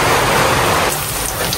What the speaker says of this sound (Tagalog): nag-ulan na